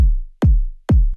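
Three deep, thumpy kick drum hits from a layered sample in an electronic track, evenly spaced and loud, each with a punchy attack and a low, booming decay, heard alone.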